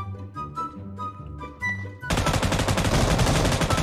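A long, dense burst of rapid automatic gunfire from a Chinese-made weapon in the battle royale game PUBG opens loud and steady, following a stretch of tonal game music.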